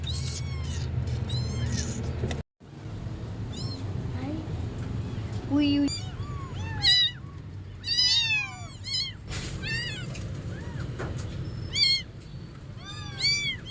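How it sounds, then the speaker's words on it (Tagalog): Rescued abandoned kitten meowing repeatedly in short, insistent cries, close and clear, with a brief gap early on and people talking softly in the background. "Yan yung na-rescue nating kuting kanina."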